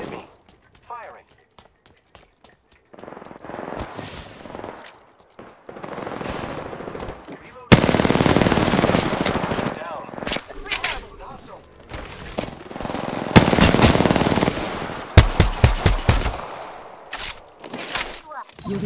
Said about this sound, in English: The enemies are shooting at me. Firing.